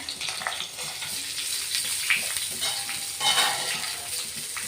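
Stuffed green chillies fry on a tawa over a low gas flame, giving a soft, steady sizzle with faint crackles, quiet and close.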